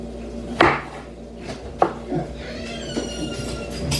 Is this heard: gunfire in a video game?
no